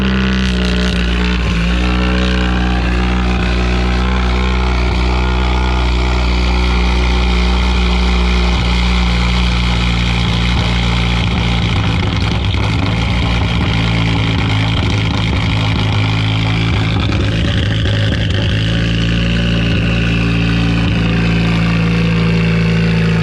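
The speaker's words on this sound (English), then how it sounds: "Sick cold start, dude." A fully built Mazdaspeed 3 fires up from cold and settles into a loud, close, steady idle with a deep droning rumble, its pitch shifting slightly midway as revs fluctuate.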